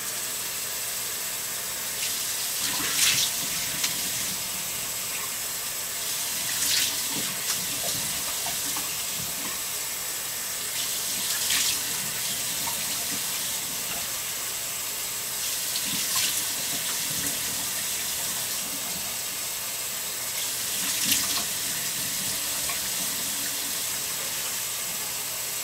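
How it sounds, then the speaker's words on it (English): Cold tap water runs steadily in a constant hissing stream for rinsing skin after a TCA chemical peel, with a few brief louder splashes at intervals. "we're going to do the 60-minute rinse with cold water again"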